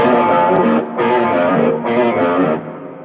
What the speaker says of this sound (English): That sounds really cool with distortion.